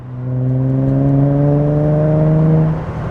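An Infiniti G35 exhaust fitted with an ultra quiet resonator revs in a smooth, loud drone that climbs steadily in pitch, holds, then drops away near the end, with no voices.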